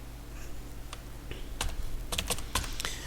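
Code being typed on a computer keyboard, scattered key clicks that quicken into short bursts of sharp taps over a low steady hum, close and with no voices.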